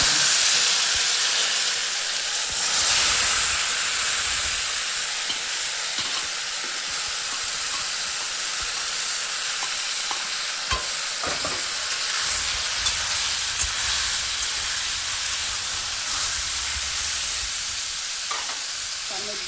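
Taro leaves frying in oil in a hot karahi, a steady close sizzle and hiss with occasional stirring clatter, continuous throughout with no talking.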